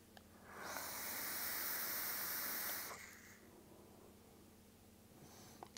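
A Phantom V2 vaping device atomizer gives off a steady close hiss of vapor for about two seconds, then it cuts off and a faint background remains.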